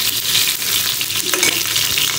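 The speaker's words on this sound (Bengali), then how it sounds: "মাংস ভাজছি" Meat frying in a pan in a home kitchen, a loud continuous sizzle with crackling bursts and a brief scrape of stirring partway through, with no talking.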